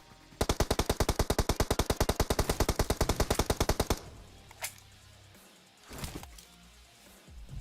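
Rapid automatic gunfire in the video game PUBG rattles off in one long, fast, even burst of about thirty shots, then stops; faint game ambience and a couple of softer distant noises follow.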